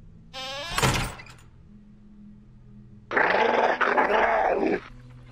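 Wolf dogs in Fortnite give a sharp snarl, then a longer rough growl after a pause, both loud and close with no talk.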